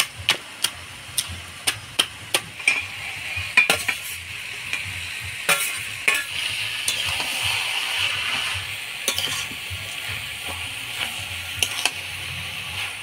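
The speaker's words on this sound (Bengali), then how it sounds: "মাছের মুড়াটা দিয়ে ভালো করে নাড়াচাড়া করে নিলাম" A fish head and cabbage are stirred in a frying pan, with a spatula clinking and scraping repeatedly against the metal over a steady, soft sizzle.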